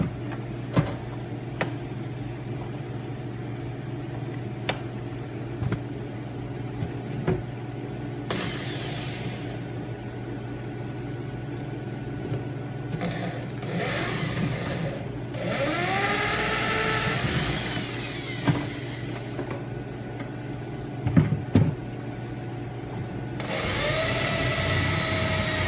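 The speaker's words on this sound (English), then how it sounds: "So I'm going to drill a hole in there into that new piece of wood that I put in" A power drill bores a hole into a new piece of wood fitted during an antique Singer sewing machine repair, several whining bursts of varying length over a steady background hum, close and fairly loud.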